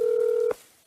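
A phone dialing out to place a call: a single steady tone holds for about half a second, then cuts off abruptly, leaving quiet line hiss.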